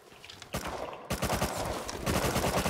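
Rapid bursts of automatic gunfire in the survival game Rust during a player-versus-player fight, loud and close, coming in dense sustained volleys separated by a short pause.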